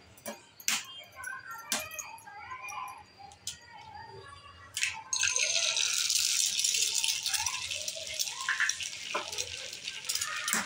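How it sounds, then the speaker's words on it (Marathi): Eggs are cracked into a hot pan greased with butter or ghee: a few sharp taps and clinks, then a sudden loud, steady sizzle that keeps frying close by. "आता आपण ह्याच्यामध्ये अंडी फोडूया."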